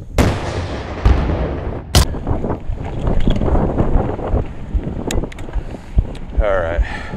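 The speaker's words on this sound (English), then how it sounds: "it's super windy out here" Strong wind buffets close up in continuous rumbling gusts at an outdoor BMX pump track, with a few sharp knocks and some faint speech underneath.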